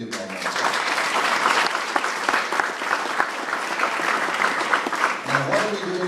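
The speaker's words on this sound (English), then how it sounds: "You deserve a round of applause." An audience at a Young Republicans endorsement meeting breaks into sustained, loud applause, dense clapping that runs steadily throughout before starting to taper near the end.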